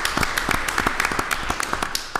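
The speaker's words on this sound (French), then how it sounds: "je pense que ça mérite une bonne main d'applaudissement" A few people in the audience at a municipal council meeting clap, producing a sparse, steady patter of separate claps.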